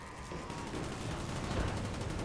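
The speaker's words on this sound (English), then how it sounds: "Shooting all the guys." Rapid gunfire from enemies being shot in a video game forms a dense, continuous rattle of shots throughout, moderately loud with no pauses.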